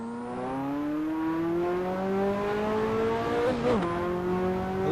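A turbocharged 1980s or 1990s supercar held in second gear on a drag strip, engine droning loud and close as revs climb steadily, with a brief dip and turbo whoosh near the end before it pulls on again.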